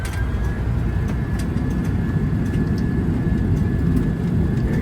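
Loud, continuous jet roar from a Boeing 737 landing with thrust reversers deployed and brakes applied, a dense rumbling wash heard from inside without a break.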